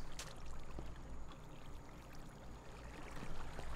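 Water flowing in Minecraft: a steady, gentle pouring and streaming wash that holds at an even, fairly quiet level throughout, alone without any talking.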